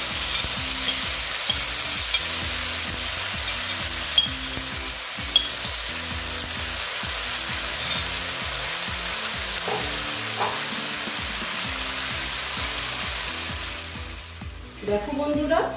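Mashed sweet pumpkin cooks in a pan with a steady, close sizzle, broken by a few sharp clicks and scrapes of stirring, fading near the end.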